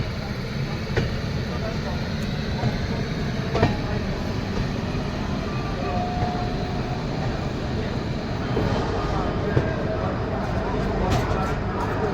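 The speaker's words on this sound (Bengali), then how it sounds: "ফাইনালি ট্রেন হাওড়া স্টেশনে এসে পৌঁছালো" A Bhubaneswar–Howrah Jan Shatabdi Express arriving at Howrah station rumbles and rattles steadily, with occasional clanks and a faint brief tone, the low rolling noise continuing throughout at close range.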